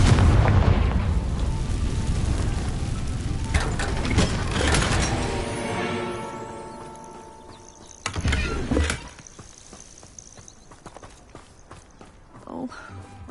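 A Confringo fire spell goes off in Hogwarts Legacy with a loud burst of layered booming noise, then a second sharp blast about eight seconds in, over game music and a speaking voice.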